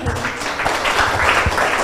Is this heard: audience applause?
yes